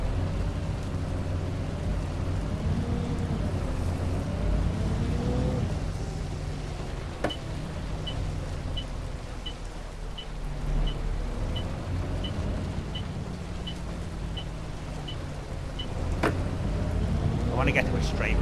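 A bus in the OMSI 2 driving game rolls through rain with its window open: a low engine rumble and road noise under a steady rain hiss, with a string of regular ticks midway and a couple of sharp clicks.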